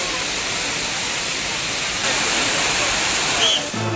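Suruli waterfall in Theni district, flowing steadily as a broad, constant roaring wash of water that stays loud throughout, with a brief faint tone near the end.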